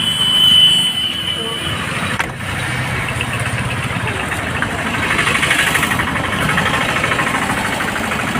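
A car engine idles steadily outside a shopping showroom, a low continuous rumble that stays constant for several seconds, with some background activity around it.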